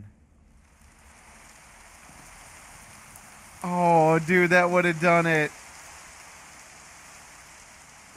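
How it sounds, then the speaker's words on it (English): Video game rain falls in a soft, steady hiss the whole way through, and someone talks briefly over it near the middle. "The weather, rain."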